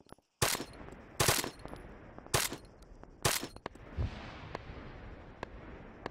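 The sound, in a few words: gunfire in the video game Arma 3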